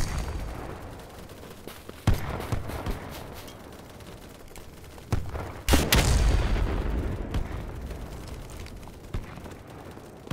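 HEAT grenades going off in the shooter BattleBit, two heavy booming blasts with long rumbling tails amid scattered distant gunfire, loud and close.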